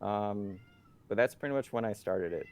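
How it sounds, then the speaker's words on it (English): A pet cat lets out one clear, drawn-out meow nearby, followed by someone speaking indoors. "Sorry, that's my cat."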